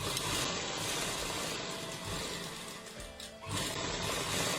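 A sewing machine running steadily while stitching buckram along a kurta neckline, a continuous whirring drone that briefly pauses and then resumes.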